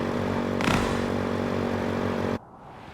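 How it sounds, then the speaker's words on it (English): Motorcycle engine in the video game Code Vein II, a steady harmonic drone with a brief scraping burst early on, running loud and continuous before cutting off abruptly near the end. "I'd never imagined motorcycles to be such a joy to ride."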